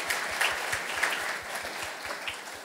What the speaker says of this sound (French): Oui, nous pouvons l'applaudir, si vous voulez.